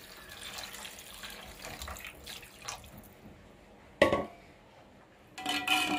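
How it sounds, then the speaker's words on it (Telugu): Water is poured from a glass into a pot of rice for Rayalaseema-style bagara rice, a soft trickling splash followed by sharper pours and clinks of vessels, with no talking. "రైస్ అది 3 గ్లాస్ వాటర్ యాడ్ చేస్తున్నా"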